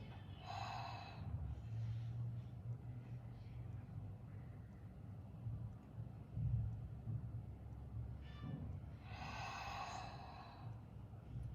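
Slow breathing in and out during yoga neck rolls: a long, airy breath at the start and another near the end, with quieter breath sounds between them over a steady low hum.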